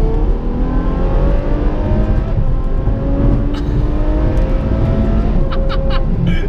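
A Ferrari F12 Berlinetta with an iPE exhaust roars steadily and climbs in pitch as it accelerates hard to overtake, loud and close, with a deep rumbling exhaust throughout.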